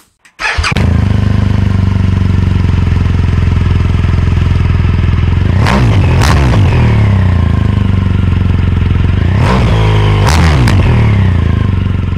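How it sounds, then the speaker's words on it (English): A Honda CRF250L motorcycle starts up close and loud, then settles into a steady thumping idle, broken by two pairs of quick throttle blips that rise and fall. "Start the bike."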